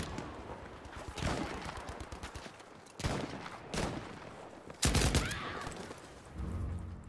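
Bursts of gunfire in the World War II shooter game Battlefield V, several sharp volleys and rattling shots at moderate volume, some close and some further off.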